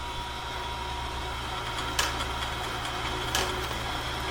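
A heavy-duty sawmill blade sharpener runs steadily with its grinding disc turning, a faint continuous motor hum with two brief light scraping touches.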